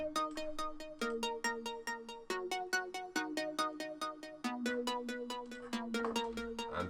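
Plucky synth notes in a hand-programmed arpeggio pattern with the arpeggiator switched off, a quick steady stream of short bright tones shifting pitch every second or so, heard alone for a melodic trap beat.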